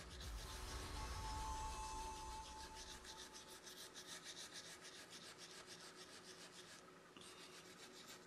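A metal brush scrubs a corroded, water-damaged iPhone 11 Pro Max motherboard wet with contact cleaner, a close, steady rapid back-and-forth rasping that continues for several seconds with no talking.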